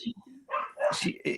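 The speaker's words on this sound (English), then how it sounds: "I'm sorry about the dog out here." Dog barking outdoors during an indoor conversation, a few short yips and barks at moderate distance overlapping with people talking.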